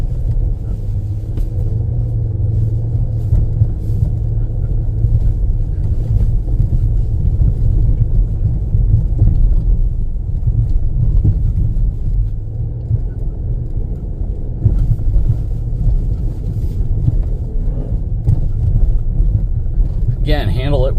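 A 2023 Nissan Pathfinder Rock Creek ploughs through deep, soft sand, its engine and tyres making a steady low rumble with a drone that holds at much the same level for the whole stretch.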